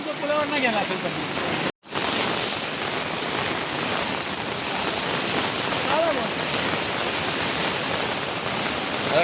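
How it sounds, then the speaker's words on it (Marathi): Loud, continuous roar of a flooded river in Panderi village, Konkan, rushing past close by, broken by a brief cut, with faint voices underneath. "लय असा भयंकर असा पूर आलेला आहे"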